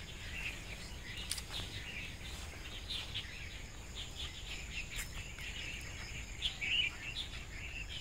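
Birds chirping and calling in an outdoor park alongside insect trilling and frogs, scattered faint tweets over a steady low background hum, with one slightly louder chirp near the end.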